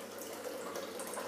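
Water running from a bathroom sink tap beneath a mirror, a steady continuous hiss and splash at moderate level with no voices.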